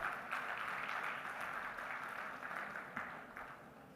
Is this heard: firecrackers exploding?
no